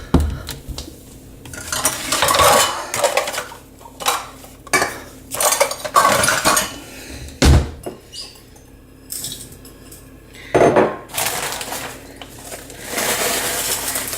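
Kitchen utensils clink and scrape against bowls and measuring cups while sugar is measured out for a casserole topping, a series of irregular metallic taps, rattles and stirring scrapes at close range, with no talking.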